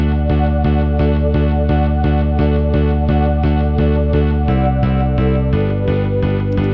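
Steady repeated bass-line notes raised an octave to D, with a distorted, effect-laden guitar tone in an even pulse, the pitch shifting near the end; sustained and fairly loud.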